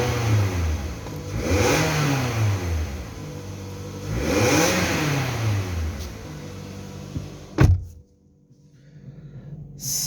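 A 2011 Toyota RAV4, just repaired after a throttle actuator fault traced to the ETCS fuse, revs up twice in long rising and falling sweeps, then settles back before a sharp clunk and sudden quiet.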